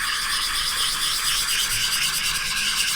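Sandpaper rubbed in circular motions over a wooden turkey call, a steady close, even scratchy hiss with no pauses.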